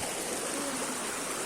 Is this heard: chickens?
no